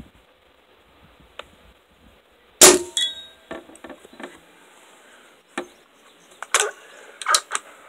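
Pellets from an Umarex Octane air rifle strike a hanging metal plate at 50 yards, giving several sharp, ringing clangs spread across a quiet background, some with a brief metallic ring.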